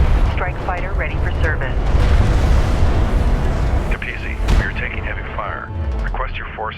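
Explosions and heavy weapons fire crash through a battle in Homeworld: Deserts of Kharak, with dense continuous booming and a sharp loud blast near the middle, all under radio-style voice chatter.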